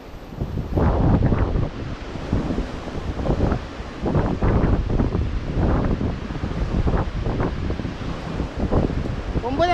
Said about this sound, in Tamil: சரியான காற்று வீசிகிட்டு இருக்குது.